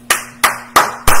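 Church congregation clapping, four sharp, loud, evenly spaced claps in a slow rhythm, each fading quickly.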